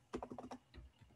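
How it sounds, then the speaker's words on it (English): A quick burst of keystrokes on a computer keyboard, a handful of close, crisp clicks in a short run, then a few softer taps, faint and alone. "Let me type it here."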